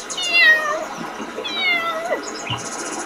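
A kitten meows twice in clear, high, drawn-out cries, fairly close and loud, followed by a shorter squeak, with no talking over it.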